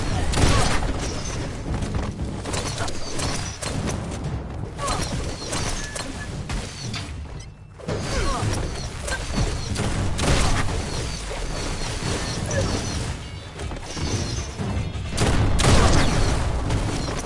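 Gunfire in the shooter game Warzone, dense bursts of shots and crashing impacts that run almost without a break, loud and close, with brief dips in between.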